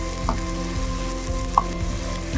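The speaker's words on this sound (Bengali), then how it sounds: "টমেটোটা খুব ভালো করে এটার সাথে ফ্রাই করে নিতে হবে" Tomato frying together with potatoes in a pan for a white potato curry, giving a low steady sizzle with a few soft stirring knocks.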